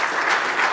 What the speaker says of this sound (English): So huge round of applause for Laura.